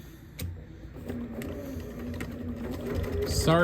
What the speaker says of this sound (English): I'm going to take these to the sewing machine and sew them on.